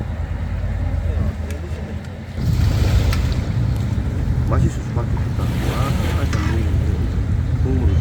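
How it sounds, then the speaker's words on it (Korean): Strong sea waves off Tongyeong, South Korea, crash and surge with wind buffeting the microphone, a heavy rush swelling midway. "오늘 파도가 좀 센데요"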